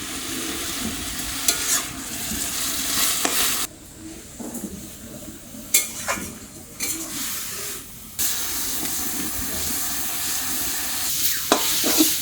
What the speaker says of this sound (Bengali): কুমড়ো শাকটার জলটা নিয়ে সুন্দর করে আমি ভেজে নিচ্ছি